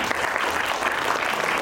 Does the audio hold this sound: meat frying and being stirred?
no